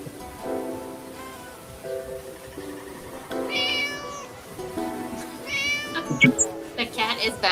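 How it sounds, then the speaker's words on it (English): A cat meows repeatedly in short, irregular calls, some rising sharply in pitch, with people talking nearby. "The cat is back."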